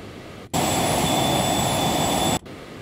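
Loud jet engine roar from the X-Plane 12 flight simulator, a steady broadband rush with faint high whining tones, cutting in abruptly, holding for about two seconds, then stopping sharply over quieter background hiss.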